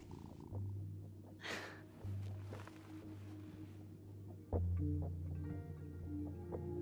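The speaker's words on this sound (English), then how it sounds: "Heavy petting. Petted the cat." Cat purring while being petted in the video game Life is Strange: Double Exposure, a low steady rumble running through the whole stretch with faint game ambience and a brief brighter sound near the start.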